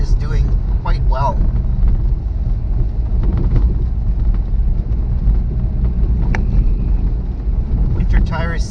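A Mazdaspeed3 on winter tires drives after an engine swap, pulling away in second gear. A steady low engine and road rumble runs throughout with wind noise, and brief voice sounds come at the start and end.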